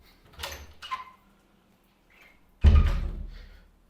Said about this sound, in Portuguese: Tenho que abrir a porta pro meu cachorro aqui